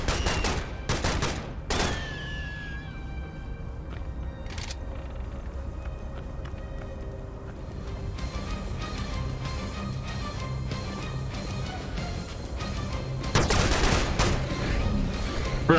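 Gunfire in the shooter Serious Sam: Siberian Mayhem: sharp bursts of shots early on, then a steady stretch of combat noise, swelling into a loud barrage of rapid fire near the end.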